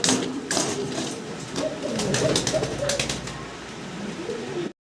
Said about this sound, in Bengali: দেখতে পাচ্ছেন কতটা অ্যাক্টিভ কবুতরগুলো এবং সুস্থ সবল আছে